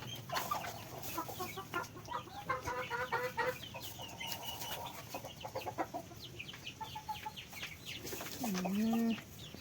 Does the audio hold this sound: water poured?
no